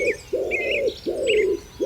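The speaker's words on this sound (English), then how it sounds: "From somewhere beyond the hedge comes the low, steady call of a wood pigeon." A wood pigeon coos from beyond a hedge, three low, hollow, even calls in a slow steady rhythm, heard clearly and fairly close, with faint higher chirps of a small bird in the background.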